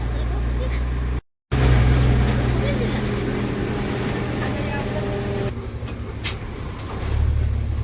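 MSRTC Tata BS6 CNG bus cruising on the Nashik–Pune highway, heard from inside as a loud, steady low engine and road rumble with rattles, briefly cut out, with faint voices underneath.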